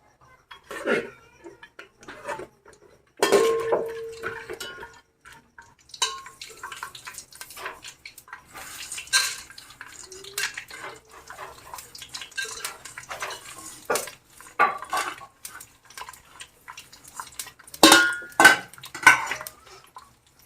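Grated fresh coconut sautéed in ghee in a pan while a spoon stirs it, giving repeated scraping and clattering clinks of metal on the pan with soft frying underneath, loud bursts near the start and end.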